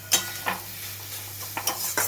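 Prawns being stirred in a pan with a spoon, giving several scraping clinks against the metal over a faint sizzle, fairly quiet and close.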